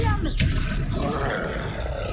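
A troll in Hogwarts Legacy lets out a deep, rough roar that rumbles loudly and close for a couple of seconds, blended with game sound effects.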